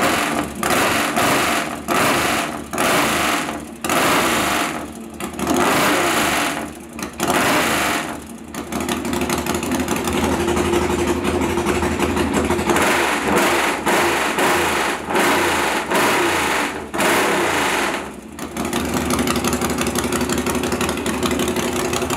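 A Norton Dominator motorcycle engine runs close by, a steady mechanical chatter with repeated blips of the throttle early on, then a sustained higher rev held through most of the run.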